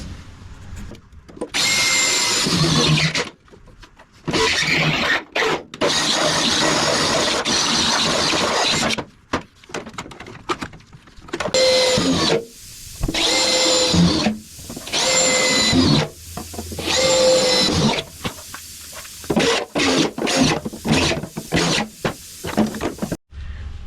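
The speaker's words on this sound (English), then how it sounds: "So let's start drilling some holes" A power drill bores holes to mount a brake booster and pedal box on a Turbo Mopar big block International coupe ute, loud close whining bursts of several seconds each separated by short pauses, with no talk.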